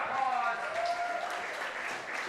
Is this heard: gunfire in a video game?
no